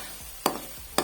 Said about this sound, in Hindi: यहाँ पे जी मैंने घी डाल दी है इसमें अपनी उसी कढ़ाई के अंदर। तो मैं डाल दूँ इसको प्याज